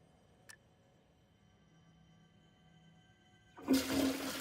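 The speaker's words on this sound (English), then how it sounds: "I was hoping for like a nice flush sound." Toilet flush in the factory-building video game Satisfactory: after a quiet stretch with a faint tick, a short, loud, rushing gush of water sounds close by at the very end.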